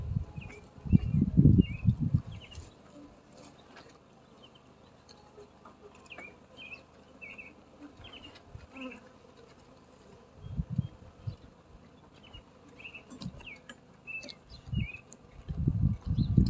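Honeybees buzzing faintly during installation into a new hive, with short high buzzy bursts scattered throughout and louder low thumps and rustles of handling at the start and end.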